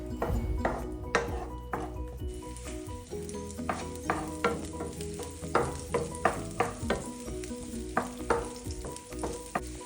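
Onions fry in a pan for a Filipino halang halang chicken dish, giving a steady sizzle while a utensil stirs and scrapes against the pan in repeated sharp clinks.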